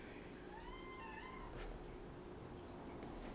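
A cat meows a few times, drawn-out and somewhat faint, over a low background hum with no talking.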